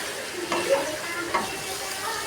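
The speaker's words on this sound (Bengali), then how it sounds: "আমি আদা রসুনটা দিয়ে ভালো করে একটু ভেজে নেব" Ginger and garlic fry with potato and pumpkin in a pan, giving a steady close sizzle broken by a couple of scraping stirs.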